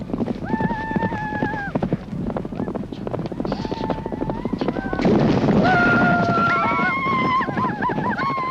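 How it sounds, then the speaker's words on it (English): Horses gallop in a Mongolian horse race outdoors, with a rumble of hooves and wind, and several loud neighs and whinnies rising over the noise, close and busy. "Mongolian horse racing is certainly exciting. The riders are children from 6 to 10 years of age, galloping to cover a distance of 15 to 30 kilometers,"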